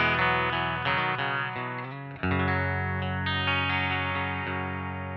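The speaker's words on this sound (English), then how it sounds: "let's start with my clean sound, which is the bridge pickup of my Telecaster." Electric guitar played through the bridge pickup of a Telecaster: sustained chords and ringing single notes, close and clear, with a brief dip before a fresh strummed chord, and no talking.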